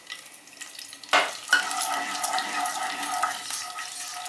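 Garlic fried to light pink sizzles steadily in oil as a teaspoon of red chili flakes goes in for red sauce pasta, with a sharp burst of crackle followed by continuous close frying and occasional stirring.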